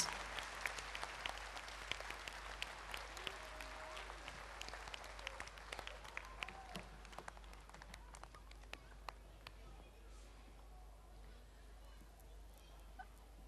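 Applause from parents for performers at a primary school annual day, a faint, distant patter of clapping that thins out and trails off after the first several seconds over a low steady hum.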